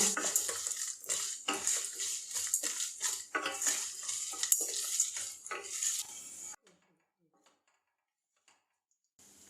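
Cashews and peanuts fry in a pan for coriander rice, with repeated scraping and clinking of a spoon against the metal over a light sizzle, then sudden near-silence for the last few seconds.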